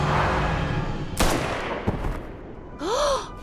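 A single sharp gunshot cracks out in My Time at Sandrock over a rumbling background, followed by a fainter thud and a rising, warbling tone.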